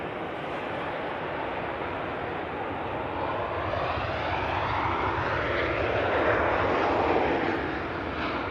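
A KLM airliner arriving from Amsterdam lands at Manchester Airport, a loud steady jet roar that swells slightly as it passes close by, with no talk over it.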